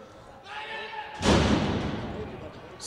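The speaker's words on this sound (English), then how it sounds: "Slams him with authority." At a wrestling show, a wrestler slams an opponent onto the ring mat, one loud, booming thud that rings out and fades, after a crowd and commentary murmur.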